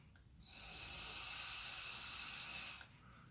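E-liquid hisses steadily as it starts boiling on a heated electronic cigarette coil at about 33 watts, a continuous close sizzle lasting a few seconds before cutting off abruptly.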